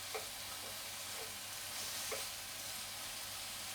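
Meat fries in a pan with a steady soft sizzle and hiss, quiet and even throughout, broken by a few faint scraping stirs as it is broken up.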